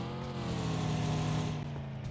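A car engine in PUBG Mobile Lite drones steadily and fairly loud, holding a sustained pitch with a slight rise, with no voices over it.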